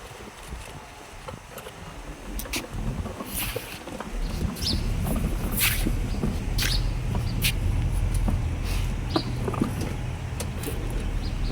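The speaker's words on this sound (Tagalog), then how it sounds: "Parada natin ng husto yung ating sasakyan." A car pulls in and parks on a rural property, its engine and tyre rumble building steadily and staying loud and close, with scattered clicks and rustles over the top and no talking.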